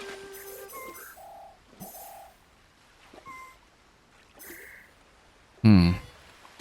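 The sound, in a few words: bird call in a Yoshi video game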